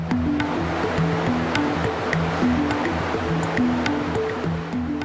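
The Mapocho River rushes at the confluence of the San Francisco and Molina rivers high in the Andes, a dense, steady roar of water that stays constant and close throughout, with a low tonal background underneath and no voices.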